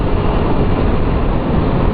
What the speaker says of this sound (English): Oh, that Black Widow exhaust sounds nice.